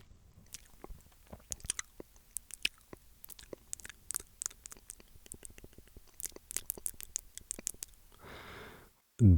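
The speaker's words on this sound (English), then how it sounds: "give you a blast of ASMR grotesque mouth sounds" Wet mouth clicks and sticky lip and tongue sounds recorded up close for ASMR, a dense scatter of sharp little pops and smacks over near silence, ending in a brief rustle and a loud bump.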